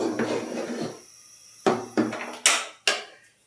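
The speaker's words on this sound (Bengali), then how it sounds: "এক হাতে ক্যামেরা আর এক হাতে আটা সিদ্ধ করতেছি।" Boiled flour (atta) being stirred in a pot, starting with a muffled scraping rumble, then a pause and four sharp, close knocks of the utensil against the pot.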